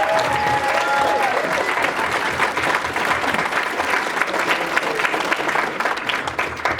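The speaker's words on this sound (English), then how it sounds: "So, round of applause for security." Sustained applause from a convention audience during the Fur Squared 2015 closing ceremony, cheering for security staff, a dense, steady clatter of clapping that fills the room at a loud, even level.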